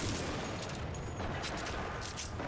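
Rapid gunfire from a high-rate-of-fire weapon in the Titanfall 2 shooter rattles in a quick, fairly quiet burst of repeated shots with no talking.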